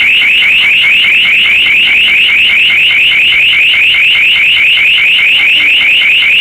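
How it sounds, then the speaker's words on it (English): A loud, piercing electronic motion detector alarm warbles continuously at a high pitch in a hotel corridor, pulsing rapidly without pause for several seconds. "Our motion detecting alarm has just gone off in the corridor outside of room 7."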